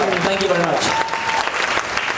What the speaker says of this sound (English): how about a big round of applause? Put your hands together for Natalie Kahalé.